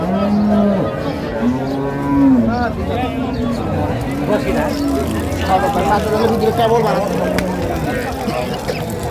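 Dairy cows and calves moo repeatedly amid a busy crowd, long low calls overlapping with people bargaining nearby in a noisy open cattle market at Raniganj, Dinajpur.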